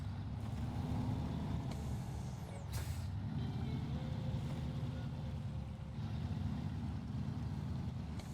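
A heavy duty truck in the SnowRunner video game rumbles at low volume with a steady engine drone, while short hissing air-brake releases cut through it.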